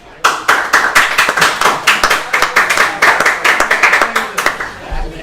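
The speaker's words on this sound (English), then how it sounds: "One loud clap, one other clap, kind of a Jake one." A few people clap in a small group gathering, a near, fairly loud burst of quick, overlapping claps that runs for several seconds before tapering off.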